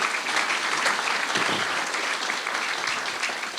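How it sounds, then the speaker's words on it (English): Steady, dense applause from a crowd, sustained and loud throughout with no pauses. "So, big round of applause real quick for our maintenance team and our volunteers."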